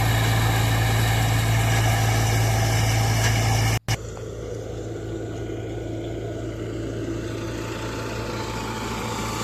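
An Eicher 480 tractor runs a Malwa threshing machine on farmland, threshing pigeon pea stalks for fodder. The steady, loud engine drone is layered with mechanical clatter and continues after a brief dropout.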